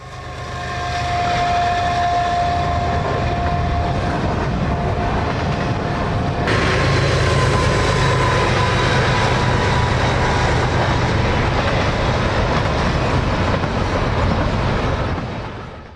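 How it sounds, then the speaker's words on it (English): A heavy CPKC grain train rumbles steadily along at Castle Junction in the Canadian Rockies, a continuous low roar with grinding, droning tones that holds loud throughout before fading slightly at the end. "it doesn't take long to see our grain train back on the move"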